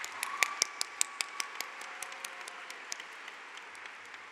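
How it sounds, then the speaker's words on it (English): A graduation audience at John R. Rogers High School applauds the class of 2022, with crisp, distinct handclaps standing out over a steady bed of clapping that gradually thins and softens. "Give her a round of applause."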